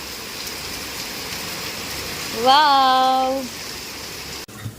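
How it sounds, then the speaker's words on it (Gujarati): Heavy rain pours down steadily outside a home, a loud, even hiss throughout; partway through, a voice lets out a brief exclamation over the downpour. "ફાસ્ટ વરસાદ ચાલુ થઈ ગયો છે"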